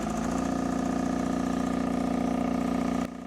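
Miller Air Pak 400 welder engine idling steadily with a deep, even, rhythmic drone, close and loud, then dropping in level just before the end.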